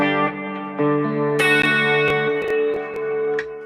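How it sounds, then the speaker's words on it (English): An electric guitar runs through an MXR Reverb pedal on its Epic setting, with sustained chords ringing out and blooming into a wide, washy tail, struck a few times and left to decay. "Let's add some reverb. This is the MXR."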